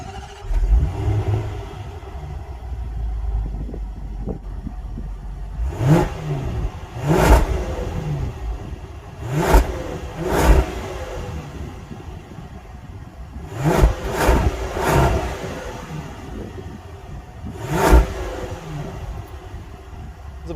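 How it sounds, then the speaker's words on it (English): A 2021 Range Rover Westminster idles with a deep exhaust rumble, then revs sharply several times in short bursts, each blip rising and falling back to idle. "let's take a listen to that exhaust"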